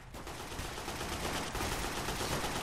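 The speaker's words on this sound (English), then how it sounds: "He's shooting right through there" Dense, continuous gunfire rattles from computer-controlled cops and robbers fighting in Garry's Mod, with overlapping shots forming a loud, unbroken barrage and no talking.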